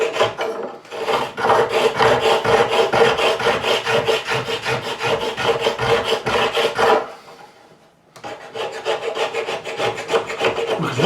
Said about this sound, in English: that makes the scraping a lot easier because now the glue is coming straight off